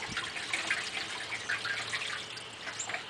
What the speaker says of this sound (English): I'm going to pour water in here